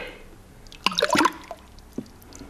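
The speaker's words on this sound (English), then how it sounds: "the next step is to submerge your piece of metal into the water" A piece of metal is lowered into a container of water for electrolysis rust removal. It makes a short cluster of splashy, gurgling plops, then a couple of faint drips in a quiet room.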